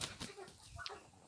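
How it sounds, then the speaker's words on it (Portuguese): Free-range chickens on a small farm, scattered clucks and short calls with some wing flapping, fairly faint and close together with no talk over them. "Tem muito, muito, muita galinha caipira aqui."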